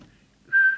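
A single short steady whistle is blown into a CB radio microphone for a transmitter whistle test, close and clear after a brief quiet moment.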